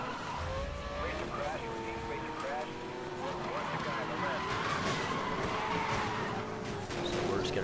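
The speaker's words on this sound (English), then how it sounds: "That was a nice drift right there." Koenigsegg supercar drifting in a racing video game, tyres squealing in wavering tones over a steady engine drone, with a voice talking over it.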